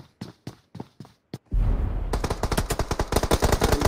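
Bursts of gunfire from the BGMI battle royale video game during a tournament match: a rapid series of separate sharp shots, then a dense, loud automatic volley, with no talking.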